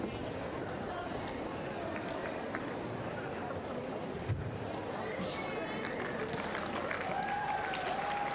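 A tennis crowd at the Hobart International applauds and cheers after Samantha Stosur wins her match against Kristina Mladenovic, a broad steady roar of clapping with a commentator talking over it.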